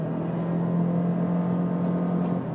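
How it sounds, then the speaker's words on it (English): Lexus RC 2017 with a CVT accelerating from inside the cabin, a steady low engine drone holding one pitch with a faint whir over road noise. "You don't really notice the CVT sound all that much."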